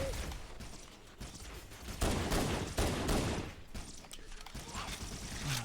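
Enemy gunfire in Halo CE Anniversary rattles in dense, overlapping bursts that swell louder midway through, with mechanical clicks mixed into the steady barrage.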